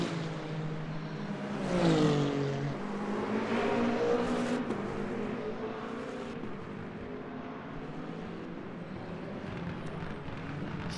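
A Peugeot 908 prototype race car in the Le Mans Ultimate sim at the 24 Hours of Le Mans, its engine note rising and falling through revs, loud and steady with other race cars around it.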